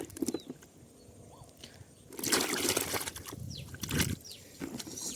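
Wild mushrooms are sloshed and rinsed in water in brief splashing bursts, the loudest near the middle and toward the end, with quieter handling noises between them.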